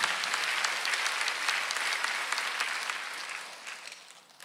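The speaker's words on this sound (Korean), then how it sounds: "박수 한번 더 해주세요" A church congregation at a Korean Sunday worship service breaks into sustained applause, a dense, steady clatter of many hands that holds strong and then slowly thins and fades toward the end.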